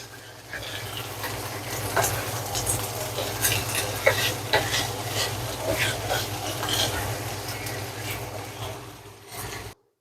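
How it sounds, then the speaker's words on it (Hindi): Minced chicken frying with onions in a pan for a Pakistani-style cheesy chicken lasagna, a continuous close sizzle with scraping stirs and clinks over a low hum, ending abruptly. "अब इसे हम प्याज के साथ सिर्फ 1 मिनट के लिए हम फ्राई कर लेंगे।"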